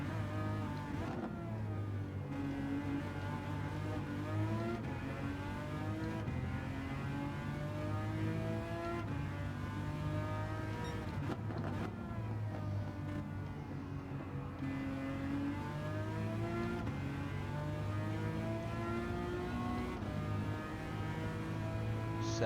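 A Ferrari LaFerrari in Gran Turismo 7 on the Sardegna Road A circuit revs and short-shifts steadily, its engine note climbing and dropping through repeated gear changes in a continuous, moderately loud drone.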